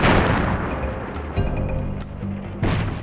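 Explosions from TNT crates in the Crash Bandicoot video game, several sharp booming blasts in quick succession with a crashing, crackling tail, loud and close.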